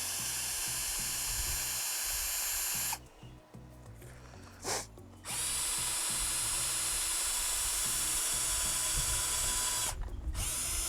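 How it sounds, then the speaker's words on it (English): A loud, high-pitched whine of an impact driver runs steadily, cuts out for a couple of seconds, then resumes with a brief pause near the end. "This is an impact driver."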